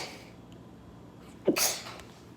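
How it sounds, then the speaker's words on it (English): A person lets out a single sharp sneeze at close range: a brief intake followed by an explosive burst that trails off quickly, with no talking around it. "Hold on, I gotta sneeze."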